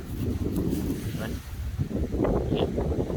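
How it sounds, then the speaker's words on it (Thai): Strong wind blows outdoors in a garden of rose plants, buffeting the microphone in loud, rough gusts that rise and fall throughout. "โอ้ย ลมแรงแค่เนาะ"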